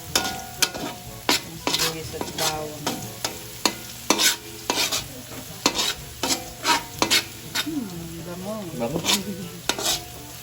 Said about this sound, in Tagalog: antayin lang natin mag-brown ng kaunti